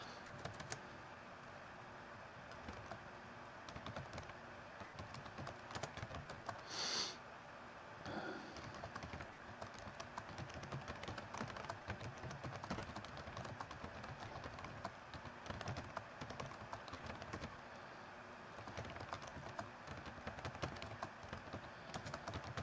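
Steady keyboard typing, a busy stream of soft clicks and taps running throughout with a brief louder tap partway in, no voices.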